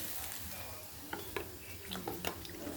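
A potato fry sizzles in a pan, with faint frying hiss and a few soft clinks and scrapes of stirring, quiet and close.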